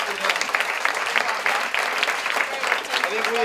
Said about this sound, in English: let's give a huge applause to the 8 senior girls